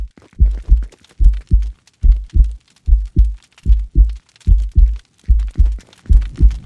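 Video game low-health heartbeat effect in Fortnite Creative: steady double thumps repeating about twice a second, loud and close, alone with no talk.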